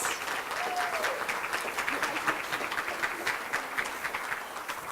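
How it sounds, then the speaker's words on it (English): Applause from the audience at a scholarship luncheon, a steady, dense patter of many hands clapping together for about five seconds, with a faint voice or tone briefly audible early on. "Let's give them a little round of applause."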